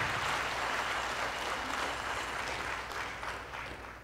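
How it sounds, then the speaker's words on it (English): An audience at a special screening of the 90s musical film Taal claps in sustained, dense applause that fades slightly toward the end, with no voices over it. "Give him big applause."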